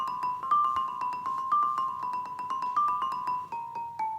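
Musical stones struck as a rock lithophone, playing a melody in harmony: a quick, steady run of bright ringing tones that overlap and sustain, close and alone without voices.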